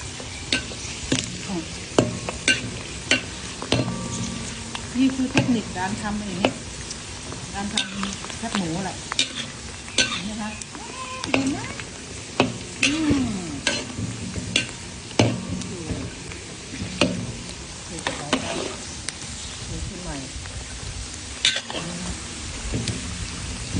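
Thai-style fried pork sizzles and crackles steadily in a pan of hot oil, with frequent sharp pops and spatters and occasional stirring scrapes, loud and close throughout.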